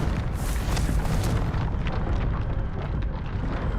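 Confringo fire spell blasting in the Hogwarts Legacy video game, a loud, sustained booming roar of explosions that fills the whole stretch without pause.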